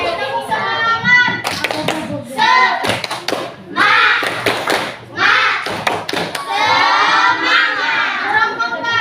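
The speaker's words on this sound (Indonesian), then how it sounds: "Tepuk semangat." A primary school class in a maths lesson does the rhythmic 'tepuk semangat' spirit clap, with bursts of many hands clapping mixed with children chanting and shouting loudly and close by.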